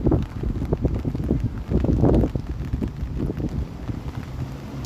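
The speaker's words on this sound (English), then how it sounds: "now we're getting some gusty conditions here" Gusty wind buffets a microphone on a rainy Saturday evening walk through Toronto, coming in uneven rushing bursts that rise and fall over a few seconds.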